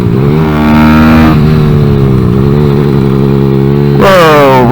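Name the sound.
Kawasaki Z125 motorcycle engine revving while downshifting gears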